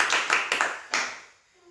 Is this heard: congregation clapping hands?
yes